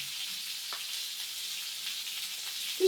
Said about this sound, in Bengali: তেলে সামান্য চিনি দিয়ে এখন আলুগুলো লাল করে ভেজে নিচ্ছি